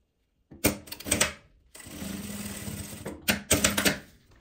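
A sewing machine stitches a closing seam along the zipper channel of an insulated thermal bag, running in two rapid bursts around a steadier middle stretch of motor hum, close and fairly loud with no talking.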